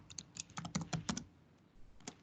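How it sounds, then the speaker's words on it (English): A short burst of typing on a computer keyboard, a quick cluster of crisp key clicks followed by a pause and a couple of final taps, close and clear with no talking. "And that was me typing it in with the hashtag."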